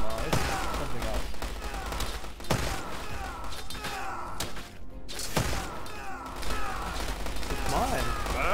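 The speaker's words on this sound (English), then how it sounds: "But it's like a cannon or something, it's not a mortar. It's like single shot." Single cannon shots fire one at a time in the war strategy game War Selection, set in West Asia, each a loud booming thump spaced a second or two apart over a dense, noisy battle backdrop with a voice talking.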